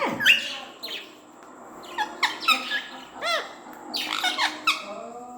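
A pet peacock lets out a series of sharp, shrill squawks and squeaky calls, close by and fairly quiet, in irregular bursts separated by short pauses.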